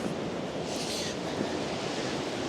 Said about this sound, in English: Now here we have some water coming from the aqueducts, from the mountains